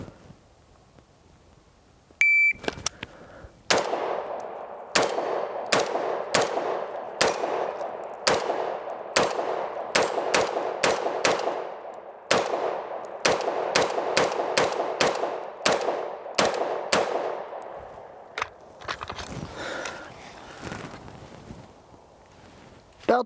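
Rapid gunshots from a Sig Sauer MPX Copperhead ring out at a range, a string of about twenty sharp, evenly spaced reports with ringing tails, followed by quieter rustling and handling noise.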